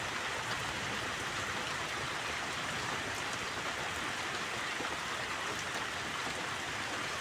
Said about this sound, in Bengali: ওই বৃষ্টি এখনো পড়েই যাচ্ছে